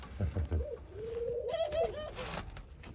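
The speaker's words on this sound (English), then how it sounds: "When they start cooing like that in the morning." Soft racing pigeon coos rise and fall close by, a low throaty warble repeated over a couple of seconds, with faint background rustle.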